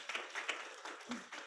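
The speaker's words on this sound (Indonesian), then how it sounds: "Tepuk tangan yang meriah buat Tuhan." Church congregation applauding during a Sunday service, a brief patter of scattered claps rather than a full ovation, fairly faint and uneven in rhythm.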